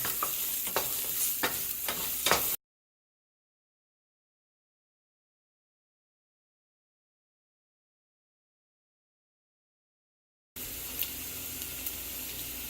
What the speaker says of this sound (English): I'm going to start toasting off the arborio.